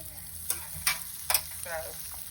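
Eggs frying over hard in a pan for a fried bologna and turkey egg sandwich give a steady close sizzle, broken by three sharp spatula scrapes and a softer bubbling crackle near the end.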